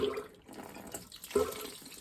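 Water from a supply pipe screwed to a small board during a plumbing leak test, splashing and trickling steadily with brief surges, fairly quiet and close, with no talk over it.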